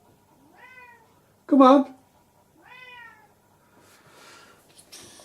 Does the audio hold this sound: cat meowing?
yes